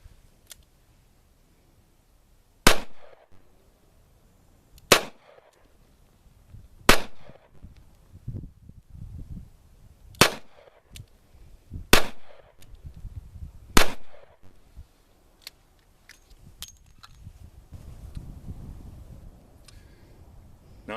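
A Smith & Wesson Model 15 .38 revolver fires six sharp shots at a target, spaced a couple of seconds apart, each crack loud and close with a brief tail, while faint shooting and range noise sit in the gaps.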